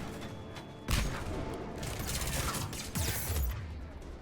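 Grenade explosions in the sci-fi shooter Mass Effect 3 go off amid continuous battle noise, with two heavy, close blasts about two seconds apart over a dense background of clattering combat effects.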